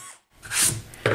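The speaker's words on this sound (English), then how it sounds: "I can drill a hole in order to get my blade through and started." A power drill bores a starter hole through wood so a jigsaw blade can pass in, heard as a brief rising grinding burst after a short silence, close and fairly loud.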